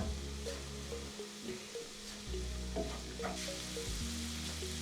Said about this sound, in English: 2 cloves of garlic and fry that for 30 seconds